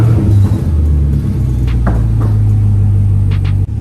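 A widebody Camaro 2SS rumbling at idle right after starting, a loud close deep engine drone with slight rises in tone, then a brief dip near the end.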